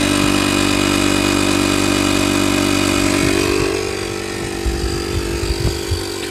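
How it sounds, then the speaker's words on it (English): A portable air compressor powered by a CAT lithium power station runs with a loud, steady motor drone and hum, then the pitch drops slightly partway through, with faint clicks and knocks near the end. "We're gonna start this compressor and see how long it takes."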